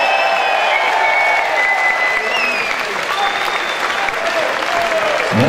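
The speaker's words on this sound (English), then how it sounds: "let's cheer for both boxers in our opening contest this evening" A boxing crowd at a charity boxing night cheers and applauds for both fighters after an opening bout, a loud steady roar of clapping and shouts filling the hall with no gaps.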